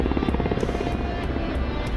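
A helicopter in a flight game roars steadily with a dense, continuous rotor thump and engine drone, loud and close throughout.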